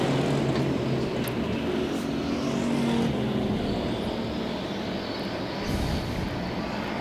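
USRA factory stock cars racing in a feature event at Devil's Bowl Speedway, a steady, dense engine roar from several cars under way, moderately loud and continuous with no talk.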